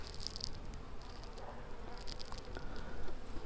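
Honey bees drone faintly and steadily around an opened hive taken from a swarm trap during a first inspection. A few light ticks and rustles sit over the continuous buzz. No voices.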